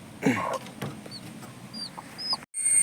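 Chickens cluck close by in a rural yard, one loud cluck burst early followed by softer scattered clucks and faint bird chirps, with no talk.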